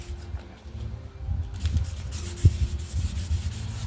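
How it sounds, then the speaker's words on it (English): Rust being rubbed off an old 1959 Schwinn Tornado klunker bicycle, a soft, steady scrubbing and rubbing that grows a little louder after the first second and a half, with one brief thump midway. "Also taking a little of that rust off."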